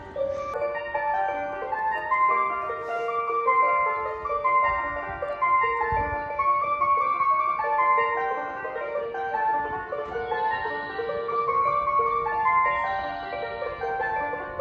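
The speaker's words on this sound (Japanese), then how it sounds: "2つの発車メロディーが同時に鳴り響いてますけども" Two electronic departure melodies chime together on a railway station platform, bright overlapping tunes looping continuously at moderate volume with faint station ambience underneath.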